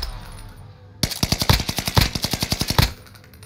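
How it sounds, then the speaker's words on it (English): Enemy gunfire from above in a shooter video game, a sharp automatic burst of about sixteen evenly spaced shots lasting under two seconds, loud and close, standing alone between quiet stretches. "You're shot at by top, though."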